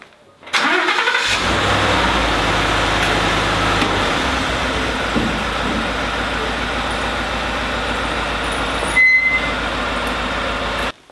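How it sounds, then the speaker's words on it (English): A truck engine cranks and catches, then settles into a steady, loud idle and low rumble as the vehicle pulls forward on snow chains, with a brief dip near the end. "let's go ahead and start the truck up and move forward"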